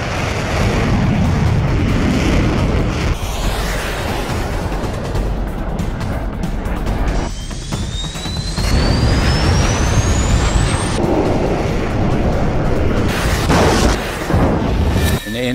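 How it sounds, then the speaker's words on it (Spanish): A missile explosion strikes an A-4Q jet during an air battle over the Falklands, with a Harrier having fired a Sidewinder, heard as a loud sustained roaring blast with a rising whine through the middle. "En ese momento escucho una explosión muy, muy fuerte."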